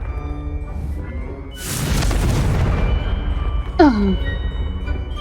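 Confringo fire spell explosion in Hogwarts Legacy: a close, loud whooshing boom bursts and decays into rumbling crackle over a couple of seconds, followed by a short vocal cry near the end.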